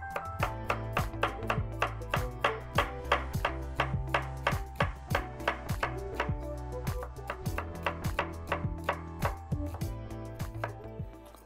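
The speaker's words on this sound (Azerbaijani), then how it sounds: "Soğanları da hər zamanki kimi uzun-uzun doğradım ki, soğanın dadı və görüntüsü bəlli olsun" A knife chops onions into long strips on a board, making a steady run of sharp, close knocks, quick and evenly spaced, some in short bursts, with no voice.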